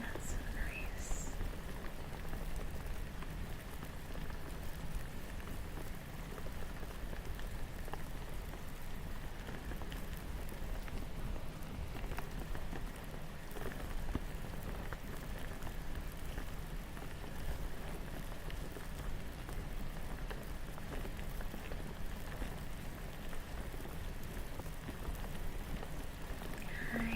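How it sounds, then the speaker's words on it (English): Heavy rain pattering steadily on a surface in a cozy indoor setting, a continuous dense hiss with soft drops throughout, at moderate level and with faint quiet speech now and then. "Sounds like you're on your porch with heavy rain."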